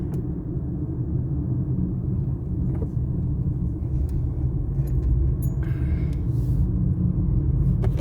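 Traffic on an inner-city toll road in Jeddah, Saudi Arabia, in the dark early morning: a steady low rumble of a few passing cars, fairly quiet and continuous, with no talking.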